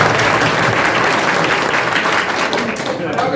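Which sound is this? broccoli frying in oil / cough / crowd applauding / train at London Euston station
crowd applauding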